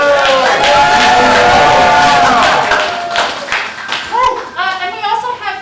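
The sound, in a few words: audience applause at improv theatre show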